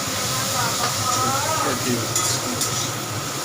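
Vegetables with turmeric fry in a pan, sizzling continuously and stirred throughout, with a voice speaking over the steady hiss.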